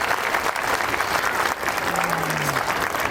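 Steady applause from a school audience at a prize distribution ceremony at Ramana Public School in Raipur, continuous dense clapping filling the hall throughout, with a brief dip midway.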